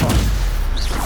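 Stupefy stunning spell cast in Hogwarts Legacy: a single punchy, booming burst with a bright swish trailing off, loud and close.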